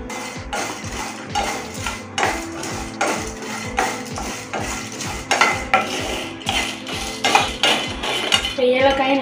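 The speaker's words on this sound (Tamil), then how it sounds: "இப்போ ஏலக்காயும் நல்லா வறுபட்டுருச்சு." Cardamom pods dry roasting in a pan for biryani masala, stirred steadily with a spoon that scrapes and clatters against the metal in a rhythmic, loud, close pattern, rattling pods throughout.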